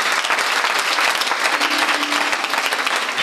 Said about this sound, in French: Acclamons Jésus, acclamons Jésus.